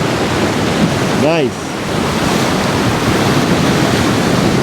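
Ocean waves roll and break steadily at a beach where body surfers ride the surf, a broad continuous wash of water with wind, and a person briefly speaks over it.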